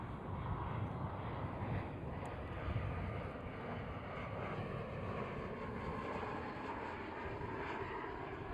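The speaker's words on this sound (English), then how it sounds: "This is KLM Cityhopper E175, the smallest KLM aircraft." Steady, distant roar of a KLM Cityhopper Embraer E175 jet at Amsterdam Schiphol airport, a broad even rumble lasting throughout without any talking.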